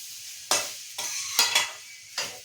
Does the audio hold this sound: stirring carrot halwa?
yes